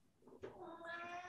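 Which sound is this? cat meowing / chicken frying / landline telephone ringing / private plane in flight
cat meowing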